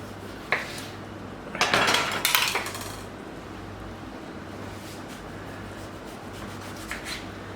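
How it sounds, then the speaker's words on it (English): A small serrated knife cuts tomatoes on a board in a home-style cooking school kitchen, giving a few close knocks and a burst of sawing strokes, then quiet apart from a couple of light taps. "It will be much easier to cut your tomatoes."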